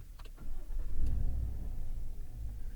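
A Chevrolet Silverado 1500 with a 6.2-liter V-8 cranks briefly and fires, settling into a deep, steady rumble heard close up.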